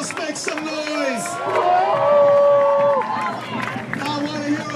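A large audience at an Inner City Muslim Action Network gathering in Chicago cheers, whoops and shouts loudly, with the roar swelling in the middle and several high whoops rising above the dense crowd noise.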